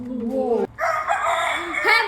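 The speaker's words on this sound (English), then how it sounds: "Rooster or cock." A rooster crows a loud, close cock-a-doodle-doo, a brief break splitting the call into a rising opening and a longer wavering finish.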